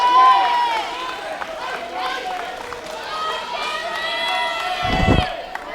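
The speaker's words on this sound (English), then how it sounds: "Crowd getting hyped up here." A sold-out crowd at a high school wrestling match cheers and shouts, a continuous mass of voices rising in excitement, with a sharp thud or whistle-like burst near the end.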